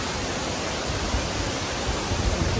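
Hulugan Falls in Laguna sends out a steady, dense roar of falling water that fills the whole clip, loud and unbroken, with no voices.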